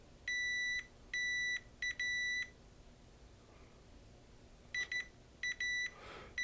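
Continuity tester probing a shorted 2015 15-inch MacBook Pro logic board, giving a series of sharp high-pitched electronic beeps in short bursts and pairs, separated by quiet gaps.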